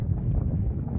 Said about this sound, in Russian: Ощущение такое очень морозное. Ветер сильный.